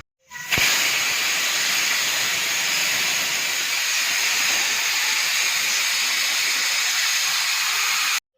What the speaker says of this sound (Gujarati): ત્રણ ચાર વિસલ વાગી જાય કુકરની, પછી બંધ કરી દઈએ